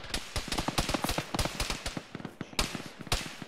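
Heavy gun firing in the Arma military game, a rapid run of sharp, loud reports in uneven bursts with short gaps, close and dominant, with no talk over it.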